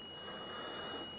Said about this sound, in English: when I remove the trigger, that was the ein'os burglar alarm box kit.